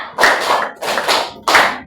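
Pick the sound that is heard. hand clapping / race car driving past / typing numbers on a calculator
hand clapping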